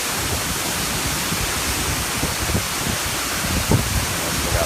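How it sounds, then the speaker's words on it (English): A recorded waterfall sample plays as a steady, dense rushing roar of falling water, even in loudness throughout, with no voices. "I'm trying to use these for white noise."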